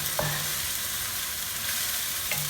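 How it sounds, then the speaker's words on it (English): Indian-style shrimp caldinho bubbles and sizzles in a pan, a steady close hiss with a couple of brief stirring scrapes and no talking. "So let it simmer down."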